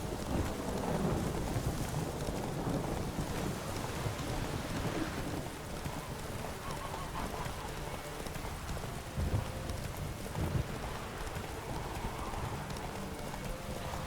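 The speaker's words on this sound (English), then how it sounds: "We get to do it in lovely rain as well." Rain and thunder in The Witcher 3: Wild Hunt video game, a constant dense downpour with low rumbles, plus a steady clopping of horse hooves throughout.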